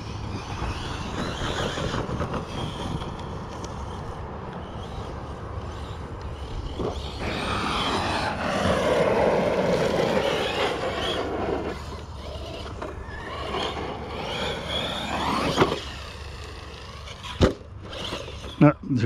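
A 1/8 scale Corally Kagama RC car on a 6S battery accelerates, its electric motor whine rising and falling in long sweeps between bursts, with people talking throughout.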